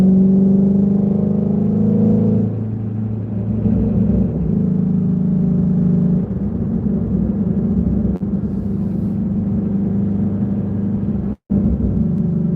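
A first-generation Shelby GT350 Mustang with a manual gearbox rumbles loudly and steadily, its engine note shifting pitch early on as it revs through downshifts, with a brief cut near the end.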